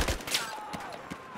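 Battlefield 4 gunfire, a brief, fairly faint burst of rapid shots in a short game moment, with no talk during it.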